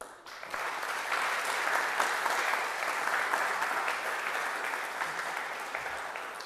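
A summer school welcome address audience breaks into applause for the organizers, sustained crowd clapping that swells in after a brief pause and carries evenly for several seconds at moderate level before tapering slightly.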